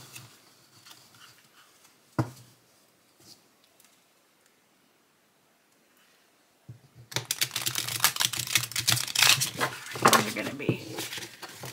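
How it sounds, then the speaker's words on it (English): After a quiet stretch with a sharp tap, a burst of rapid flapping and riffling of tarot cards follows, loud and close. "let's see how it shuffles"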